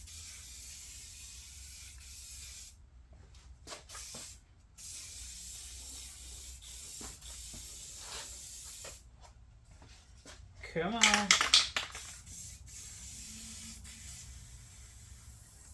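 A spray paint can hisses in short, uneven bursts with pauses while a Honda EU3000is generator is repainted, fairly close, and someone speaks briefly between sprays.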